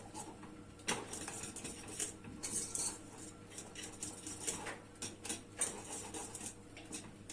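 A whisk beats through milk pudding with a spoonful of butter added, producing rapid, close metal-on-pot clinks and scrapes in quick, irregular bursts with no voices.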